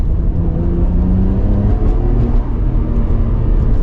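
A 1996 Nissan Skyline GT-R LM V-Spec accelerates on a test drive, its engine a loud, close, continuous drone as heard from inside the car.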